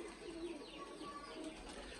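Soft pigeon cooing from fancy pigeons, including a pearl-patterned pigeon, a few low rolling coos against quiet background noise.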